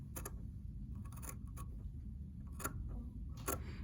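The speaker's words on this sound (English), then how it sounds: "And then I'm going to cut along that line." Shears snip through fabric for a jean bag, making a few faint, crisp cutting clicks in short bursts over a low, steady background hum.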